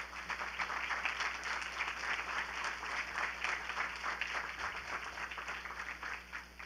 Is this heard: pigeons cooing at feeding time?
no